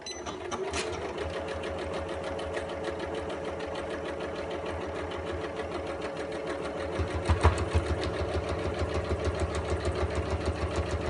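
A sewing machine stitches a fabric storage caddy, back tacking, with a fast, steady mechanical chatter that grows slightly louder and more pulsing toward the end.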